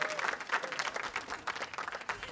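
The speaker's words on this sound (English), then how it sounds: "Give a round of applause to yourself in the Riot Games Arena." Spectators in the Riot Games Arena at an esports playoff match applaud, a brief burst of steady, dense clapping from a crowd, heard at moderate volume with no talking.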